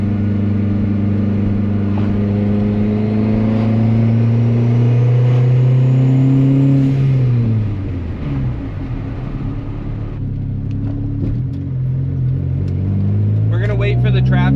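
A built, turbocharged Honda D16 engine running E85 at 25 psi revs up close by, its tone climbing steadily before dropping sharply and settling into a lower drone, loud throughout with voices mixed in.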